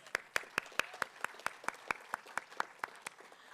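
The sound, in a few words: audience applause at city address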